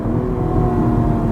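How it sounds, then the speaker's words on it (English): A 2021 BMW M135i F40 hot hatch downshifting from third to second gear, its engine droning loud and steady from inside the car for a brief moment. "Listen to these downshifts, guys"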